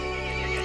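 A horse in the video game Resident Evil Village gives a loud, close, drawn-out whinny over a steady tonal game soundscape.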